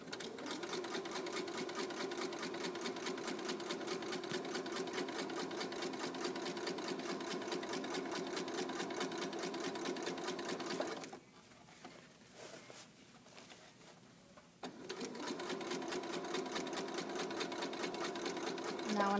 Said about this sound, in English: So now I'm going to sew across the top of my rectangle.